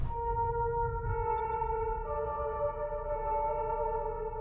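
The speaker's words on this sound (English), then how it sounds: "Play the piano by following the notes." A slow piano melody from the video game Fatal Frame: Mask of the Lunar Eclipse plays as sustained, overlapping notes over a low rumbling background, with no talking.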